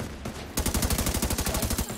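Rapid, evenly spaced bursts of automatic gunfire from a sniper or turret in a video game, loud and steady through the second half of the clip after a quieter start.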